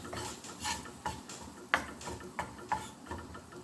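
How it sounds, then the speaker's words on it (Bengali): Onions being stirred in a frying pan while cooking onion stalks with egg, giving soft scraping and a few light metallic clinks of utensil on pan, close and alone with no talk. "এখন এই যে পেঁয়াজগুলো নাড়াচাড়া করি আমি একটা সাইডে রাখি"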